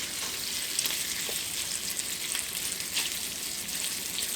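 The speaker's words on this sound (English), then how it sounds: "I'm cooking bacon over here" Bacon strips sizzle steadily in a skillet, a dense, close crackling hiss with small pops scattered throughout and no voices.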